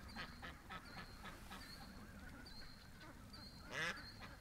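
Muddy farm ducks quack close by, a few short calls followed by a louder burst near the end, over a quiet outdoor background.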